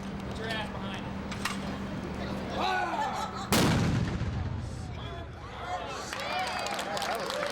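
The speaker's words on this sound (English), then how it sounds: "these were weapons that were being used by the forces of your military 60 years ago in France during the liberation of that country" WWII-era weapons fire loudly at a D-Day 60th anniversary event at a museum, with one big sharp blast partway through over a busy outdoor crowd and overlapping voices talking throughout.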